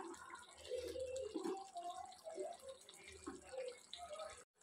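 Hot water pours into a pot of beef curry in a soft, uneven splashing stream, fairly quiet and close, stopping abruptly at the end.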